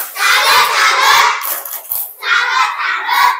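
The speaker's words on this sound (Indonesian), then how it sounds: "kita beri tepuk salut untuk kelas 3B" A class of young children at school shouting a loud 'tepuk salut' clapping chant together in two bursts, with a short pause between.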